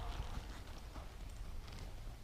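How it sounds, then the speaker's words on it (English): A horse walking, its hooves clip-clopping in a soft, steady rhythm over a broad ambient hiss, fairly faint and without talk. "And I'm just going to ask this horse to walk."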